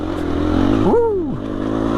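Onboard a KTM 350 EXC F dirt bike on the rocky Gorman Trail, the engine drones steadily up close, with one quick rev that climbs and then drops away.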